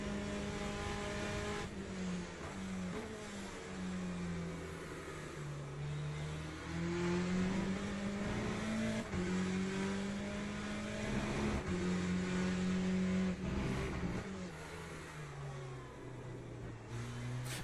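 A Porsche race car engine in the Le Mans Ultimate sim revs up and down through gears, a steady, prominent engine drone rising and falling in pitch as it accelerates and brakes, with no one talking.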